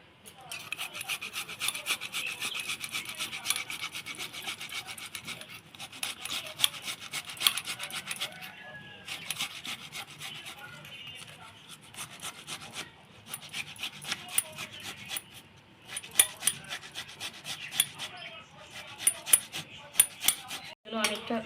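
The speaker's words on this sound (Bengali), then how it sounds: "টমেটোটা এটা দিয়ে ঘষে রসটা বার করে নেব।" A tomato is rubbed against a grater to draw out its juice, giving repeated rasping scrapes in quick strokes with brief pauses, close and fairly quiet, continuing steadily for a long stretch.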